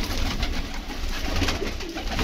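Pigeon cooing from a tournament rooftop bird, steady soft coos over a continuous low rumble and background noise for a couple of seconds.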